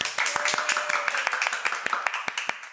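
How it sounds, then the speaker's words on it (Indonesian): A small studio audience at an Indonesian podcast taping claps for about three seconds, a scattered run of sharp, distinct handclaps at moderate level with a little background chatter. "Berikan tepuk tangan teman-teman."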